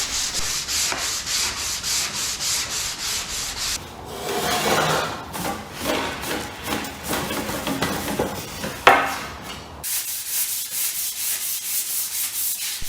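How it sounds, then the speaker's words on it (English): Steady rhythmic rasping of 80 grit sandpaper rubbed by hand back and forth over a wooden Greenland paddle, close and continuous, with a short irregular stretch midway before the even strokes resume. "I started sanding the paddle using 80 grit sandpaper"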